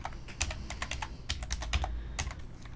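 Quick bursts of keystrokes on a computer keyboard while entering CSS code, close and crisp with short pauses between clusters of taps.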